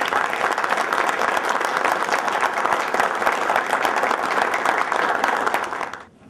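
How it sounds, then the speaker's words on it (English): An audience at a press conference for the signing of an agreement between AFC and Alabama A&M University claps in a dense, sustained burst that fades out near the end. "All right, a round of applause."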